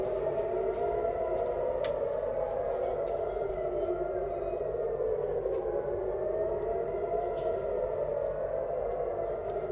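An air raid siren wails continuously in Tel Aviv during a rocket attack, its pitch rising and falling in slow sweeps, loud and unbroken throughout.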